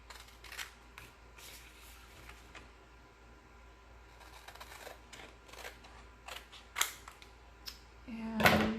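Scissors cutting a transfer sheet apart with a series of quiet crisp snips and paper rustles at close range, irregularly spaced, ending in a louder handling clatter.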